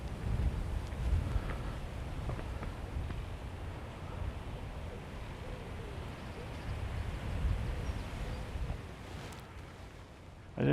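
Outdoor wind rushing and buffeting the microphone in a steady low roar that continues throughout with slight swells, loud and close.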